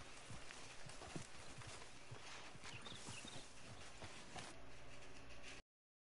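Horse hooves clip-clop steadily in Red Dead Redemption 2, a rapid run of close hoof strikes over a constant busy game background.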